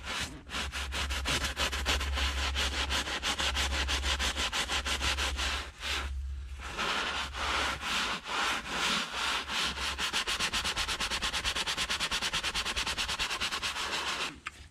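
Scrubbing foam cleaner into textured leather on a Beechcraft Baron aircraft, a loud, close, continuous rhythmic rubbing and brushing in rapid strokes, with a couple of brief pauses.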